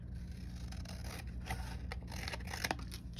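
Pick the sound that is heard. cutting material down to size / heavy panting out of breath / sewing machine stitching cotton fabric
cutting material down to size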